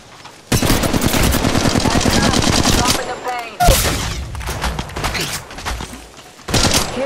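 Sustained automatic gunfire in Apex Legends Mobile rattles loudly for several seconds, drops away, then returns in shorter bursts with faint background game sounds between.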